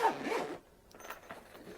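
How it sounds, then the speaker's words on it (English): A ShotKam Gen 4 camera case being unzipped, making one close, quick rasping zip of about half a second, then quiet handling. "Let's unzip this case."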